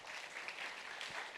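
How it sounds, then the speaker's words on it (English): An audience at a talk on digital skills gives warm applause: steady, dense clapping from a crowd, fairly distant and soft, continuing throughout. "Please give warm applause to Pak Yudi Hamka."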